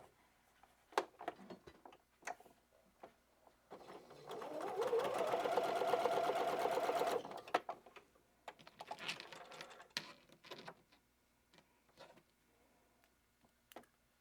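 A sewing machine hums in a steady close run for a few seconds while stitching the sides of a fabric basket made from 10-inch squares, with scattered clicks and fabric handling before and after.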